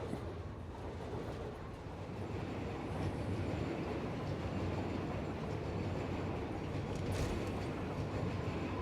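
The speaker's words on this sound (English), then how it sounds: "I see the train is just coming into the station." A train pulls into a station in the factory-building video game Satisfactory, a steady, loud rail rumble with faint wheel clatter and a brief high squeal near the end, heard alone without talk.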